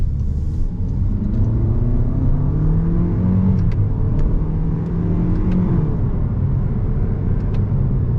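A 2023 Toyota Corolla ZR with a 2-litre engine accelerates, heard from inside the cabin as a steady, loud engine drone and road rumble with a rising, whirring pitch.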